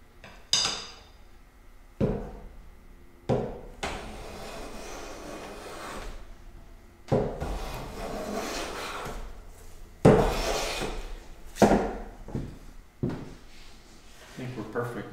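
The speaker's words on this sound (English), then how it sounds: "We're planing into the planing stop." A hand plane shaves wood on a woodworking bench, cutting into a planing stop in repeated long rasping strokes with sharp knocks as each pass starts, close and fairly loud.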